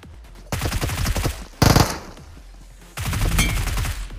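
Gunfire in the mobile battle-royale game BGMI, ending in a headshot: three sharp bursts of rapid shots, loud and close, separated by short quiet gaps.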